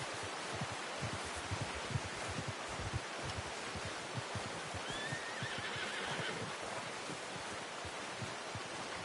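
A horse in Red Dead Redemption 2 gives a brief, faint whinny midway through, over a quiet background of soft hoof clops and rustling.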